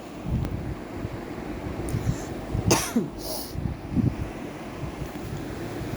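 A single sharp cough from a person with a seasonal cold stands out, followed by a second softer one, against steady wind-like background noise.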